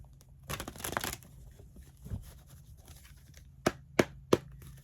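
A quick riffle of cards being shuffled, followed by a few sharp taps as the deck is squared, quiet and close.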